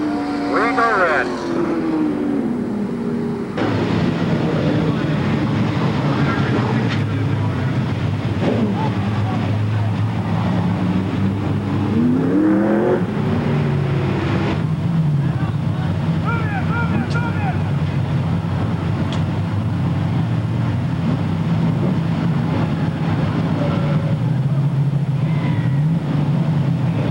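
Race cars, sprint cars, late models and stock cars, roar around a dirt oval at Marysville, with loud continuous engine drone rising and falling as they circle, a commentator talking over it.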